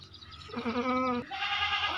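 A Makhi Cheeni goat bleats loudly and close by, a single wavering, nasal call that breaks off and resumes in a rougher second burst.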